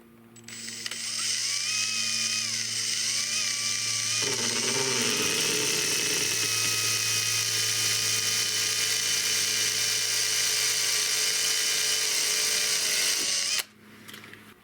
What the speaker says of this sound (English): I'm going to use this as a drilling template, at least to start that hole, start that drill.